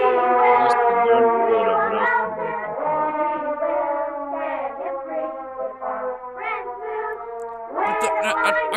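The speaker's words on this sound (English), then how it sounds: "I can't hear them over the siren." A rising and falling siren-like wail drones steadily through a low-budget Christmas film scene, strong and continuous, with layered harmonic tones shifting pitch throughout.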